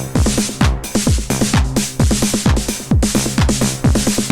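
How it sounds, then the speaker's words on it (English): Drum machine snare on note repeat fired in rapid repeated bursts over a steady electronic beat, the rolls stuttering in quick even groups, loud and close. "What I'm going to do here is I'm going to put it on a note repeat"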